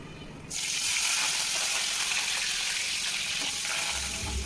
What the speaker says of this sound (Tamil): எண்ணெய் சூடானதும் ஜீரகமும் சோம்பும் தாளிக்கிறதுக்கு போடுவோம்.